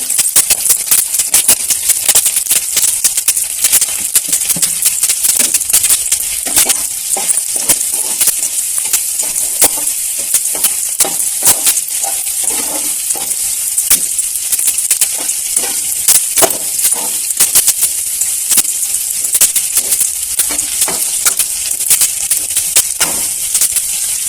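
Onion frying in hot oil in a pan with elephant foot yam and dried fish, a dense continuous sizzle and crackle with scattered rattles and clinks, steady and close throughout with no talking.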